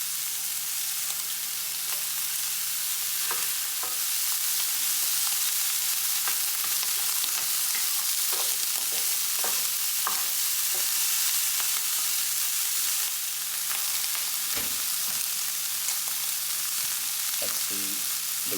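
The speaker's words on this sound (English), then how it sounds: "Keep the bacon cooking and get a bit of colour on the peas." Bacon and peas fry steadily in a pan for fried rice, a continuous close sizzle with scattered crackles and the odd stir or scrape, no voices.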